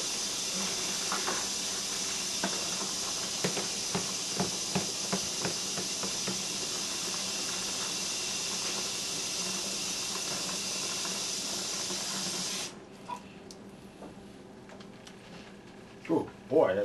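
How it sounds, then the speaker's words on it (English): Hot water runs steadily into a bucket, a continuous hissing pour that stops abruptly near the end, followed by faint handling noises and a brief clatter. "You want to let that bucket fill up and let that soak in there"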